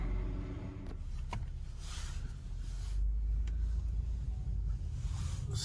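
A 2008 Chevy Impala on a test drive gives a low, steady road rumble from inside the cabin, with quiet engine hum and a few faint clicks and knocks, smooth and continuous without talk.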